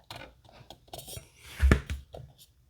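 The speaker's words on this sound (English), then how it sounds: "I'm going to take my knife and I'm going to cut." A hobby knife cuts tape on a 1:1400 scale model of the U.S.S. Enterprise NCC-1701-C, making soft close scraping and tapping clicks with one heavier knock midway.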